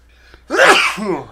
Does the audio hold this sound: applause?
no